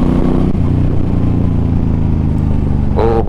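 A Suzuki M50 motorcycle engine drones steadily while riding, a loud, close, low rumble with throbbing exhaust pulses and a brief rev near the end.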